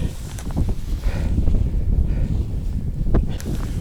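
Steady wind buffets the microphone on the snowy winter summit of Mount Breskul in the Carpathians, a low, rough roar with gusty swells, outdoors and otherwise quiet.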